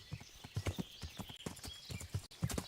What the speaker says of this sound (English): It's fine, I'll just ride. It's not that far, and I go at a normal speed on my horse